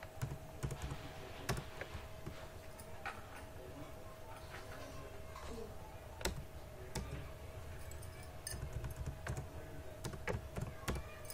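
Steady clicking of keys on a computer keyboard while C++ code is typed, irregular keystrokes at close range over a faint constant hum, no speech.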